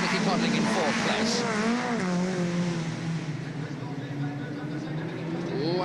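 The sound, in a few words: rallycross and hot rod race cars racing at Wimbledon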